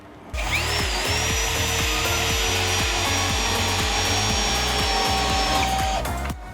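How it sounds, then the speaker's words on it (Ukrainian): A ProCraft PA BL 12 cordless drill driver in first gear at maximum torque drives a 6x90 lag screw into wood, a steady whining motor with a rhythmic low thumping pulse throughout, stopping abruptly near the end. "Спочатку йде глухар 6 на 90. Перша швидкість максимальний крутний момент 6 на 90."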